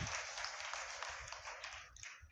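Children at a Sunday school applaud, a steady patter of many small hands clapping together at moderate distance and fairly faint, with no talking.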